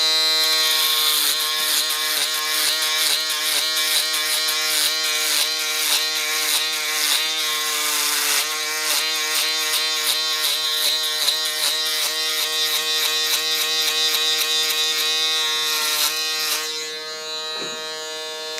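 An electric shaver trims a man's hairline in a gentleman's barber shop, giving a steady close buzzing hum that holds almost unbroken, shifting slightly in pitch as it moves, then softens near the end.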